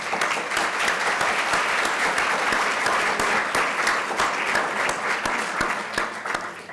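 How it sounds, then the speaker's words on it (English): A lecture audience applauds in dense, sustained clapping that holds steady from start to finish, loud and unbroken, with no voices standing out. "Let's give him a round of applause."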